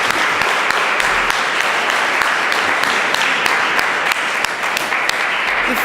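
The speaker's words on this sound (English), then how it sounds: "can we give them a round of applause?" Audience at a book launch event applauding a team, a continuous dense wash of clapping from many hands, steady and fairly loud throughout with no speech.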